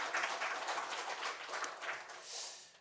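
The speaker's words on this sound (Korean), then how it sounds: "우리 하나님께 영광의 박수 올려드리겠습니다." A church congregation at a Korean Sunday worship service claps together. The applause is a steady, fairly soft wash of many hands that swells and fades over a few seconds, with no talking.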